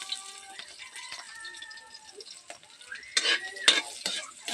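Onion frying in oil in a pan, a soft sizzle that grows busier as a spoon stirs and scrapes through it in several quick strokes toward the end.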